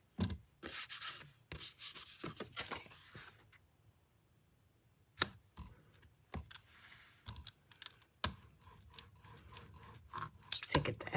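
Paper pressed and rubbed by hand onto an inked gel plate during printmaking, giving close, dry bursts of rubbing and scraping that stop for a quiet pause and then resume in short strokes.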